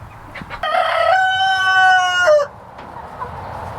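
A rooster crows once loudly and close, a long drawn-out call, with soft chicken clucks before and after it in a quiet farmyard.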